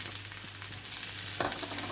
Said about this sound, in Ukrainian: Смажу картоплю практично до повної готовності.